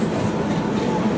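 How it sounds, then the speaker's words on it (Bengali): A train rumbles past at Dum Dum Junction railway station, a loud, steady close roar of rolling carriages filling the short moment. "চারিদিকে সব ট্রেন যাচ্ছে,"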